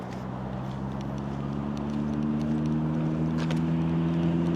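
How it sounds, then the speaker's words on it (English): Road traffic passes on a street in Sukhothai, a steady engine drone with a low humming tone that slowly grows louder as a vehicle approaches, fairly faint, with no talk. "Now that's more the traffic I'm used to."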